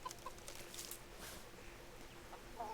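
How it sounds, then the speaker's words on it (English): Hens cluck as they try to eat in the video game Kingdom Come Deliverance. A few faint, scattered clucks sit over a soft, steady ambient bed. "The hens are trying to eat."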